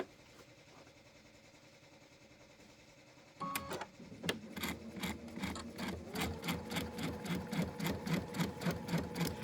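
Embroidery sewing machine stitching the side of an Easter tile: after a few seconds of quiet room tone it starts with a clunk, then runs in a steady, fast rhythmic whir of needle strokes, close and clear, no speech.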